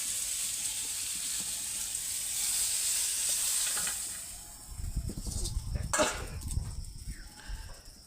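Pointed gourd (potol) frying in a pan, a soft high sizzle for the first few seconds, then handling noises and clattering of the pan as the pieces are moved, close by.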